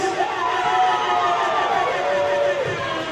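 Spectators at a Lansing at Pittsburgh indoor soccer match make a sustained roar of crowd noise and chatter, with cheering and a few high shouts carrying over the steady din.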